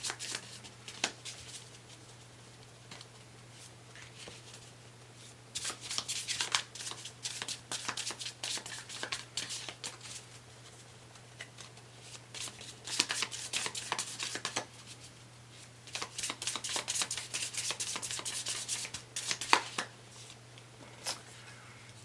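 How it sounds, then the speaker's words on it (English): Tarot cards shuffled and drawn by hand, with bursts of riffling and flicking alternating with quieter handling under a steady low hum, close and fairly quiet. "Let me get the first card."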